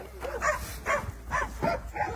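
Several dogs bark and yip at an animal shelter, about five distinct bursts in a steady rhythm, fairly close and clear over a low background rumble.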